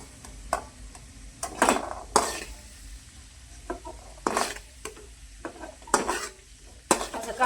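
Paneer cubes frying in a pan for paneer masala, with a soft sizzle under repeated sharp scrapes and clinks of a spatula stirring and turning the pieces, close and irregular.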